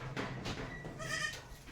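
A female goat gives a short, wavering bleat up close, rising and fading over under two seconds with faint background noise.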